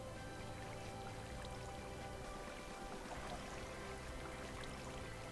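Steady flowing water in Minecraft, a continuous even rush of close, moderately quiet water with no pauses and no voices.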